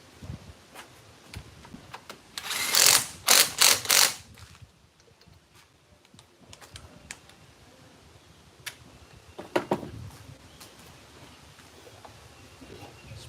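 An impact wrench on an outboard motor flywheel nut gives a loud, close burst of rattling hammering for about two seconds, then a shorter burst later over low shop background noise.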